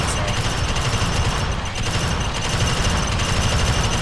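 Automated sentry gun in the video game Alien Swarm firing continuously, a dense rapid rattle of gunfire that stays loud and steady for the whole stretch with no talking.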